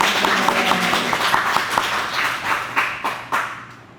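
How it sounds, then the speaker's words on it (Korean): Church congregation clapping in welcome during a worship service, a short burst of applause that gradually thins into a few separate claps and fades out. "우리 박수로 환영하시겠습니다."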